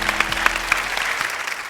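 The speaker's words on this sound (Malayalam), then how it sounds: "അപ്പോൾ എല്ലാവരും ഒന്ന് കൈയടിച്ചൊന്ന് പ്രോത്സാഹിപ്പിച്ചേക്കണം." A comedy show audience on stage applauds, brisk clapping with a few sharper claps standing out, steady and then easing slightly toward the end.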